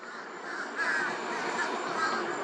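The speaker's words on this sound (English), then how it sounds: "Crows congregating here for whatever reason" Crows caw repeatedly in the evening at an electrical substation, several harsh calls overlapping against a steady broadband hum, moderately distant and continuous throughout.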